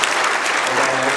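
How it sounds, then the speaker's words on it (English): An audience at an agricultural conference opening address gives a steady round of applause, dense clapping filling the whole moment at moderate loudness with no talking over it. "Another round of applause for your new secretary."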